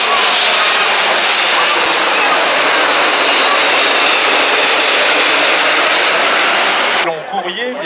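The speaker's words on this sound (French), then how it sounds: "c'est un avion" Aircraft roars past at an airshow, a loud, broad jet-engine rush sustained for several seconds before cutting off abruptly near the end, with a voice heard faintly underneath.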